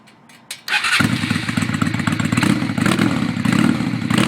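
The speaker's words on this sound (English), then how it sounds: "This is what a 600 would sound like with some Cobra pipes" A 2004 Honda Shadow VT 600 motorcycle with Cobra near-straight-pipe exhaust fires up and settles into a loud, close, lumpy idle, a deep uneven throb with chattering pulses.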